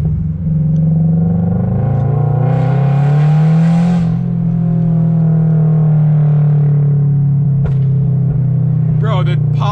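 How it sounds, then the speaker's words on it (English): A tuned Toyota GR86 accelerates with a loud, rising exhaust drone that eases off, followed by a few sharp crackling pops near the end; excited voices talk faintly alongside. "the pops are crazy"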